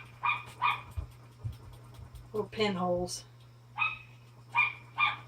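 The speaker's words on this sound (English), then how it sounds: "And the dog is out there barking at something." A dog barks outdoors in short, spaced bursts, several sharp yelps scattered across a few seconds, fairly distant and faint beneath a steady low hum, with a brief spoken phrase in the middle.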